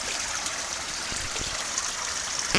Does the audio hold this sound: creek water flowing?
yes